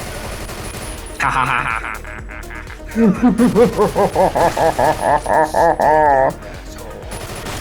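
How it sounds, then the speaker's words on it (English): Loud video game gunfire comes in a short burst, then a long run of rapid repeated shots, while a man laughs loudly over it. "I get the gun, right, and mow these people down"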